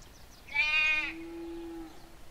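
A sheep in the FarmVille 2 video game gives a single clear, nasal bleat that wavers and then trails off into a lower sustained tone, up close and alone.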